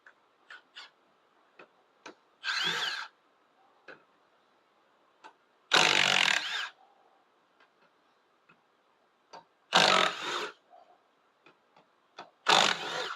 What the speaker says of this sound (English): we're going to take off the bolts for the drive gear